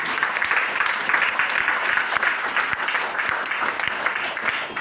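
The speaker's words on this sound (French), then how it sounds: "Acclamez le Seigneur." A church congregation applauding during a sermon, a continuous dense patter of many hands clapping together, fairly loud and steady throughout.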